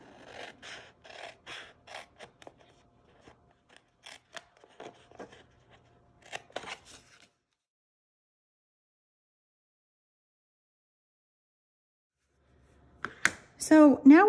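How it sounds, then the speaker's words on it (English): Scissors snip through paper along a score line while a gift bag is made, giving a run of short, quiet cutting sounds, a long silent gap, then a few louder close cuts. "I'm just going to cut up to that 2 3/4 score line"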